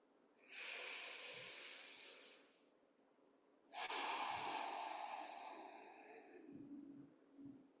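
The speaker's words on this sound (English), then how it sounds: "Just some big inhales through the nose and exhales through the mouth." Two long, slow breaths at a quiet meditation sit: each a big airy inhale through the nose followed by a drawn-out exhale through the mouth, close and soft, with a faint nasal sniff at the end and no talking.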